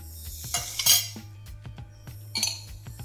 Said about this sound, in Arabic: نبدا نقلب كل ده مع بعضه